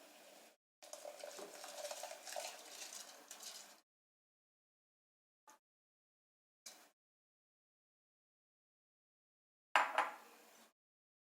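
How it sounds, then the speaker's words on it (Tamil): Rice is tipped into a pot of salted boiling water while cooking spinach pulao: a rushing, rattling pour lasts about three seconds, followed by a few brief clinks and a final short burst of stirring. "அடுத்து இப்போ ரைஸ் போட்டுடலாம்."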